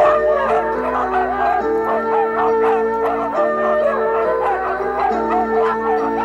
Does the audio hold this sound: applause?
no